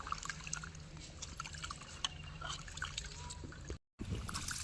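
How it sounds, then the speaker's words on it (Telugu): Rice being washed in water by hand ahead of cooking chicken biryani, with a soft continuous trickle and swish of water close by, interrupted by a brief silent gap near the end. "రెండు మూడు సార్లు కడుక్కోవాలి బియ్యం మంచిగా కడుక్కోవాలి"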